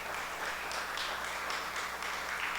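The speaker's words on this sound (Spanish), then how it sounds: "Dele una ofrenda de palmas al Señor" A church congregation claps together in a quick, regular rhythm, the steady beat of many hands sounding moderately distant and holding even for a few seconds.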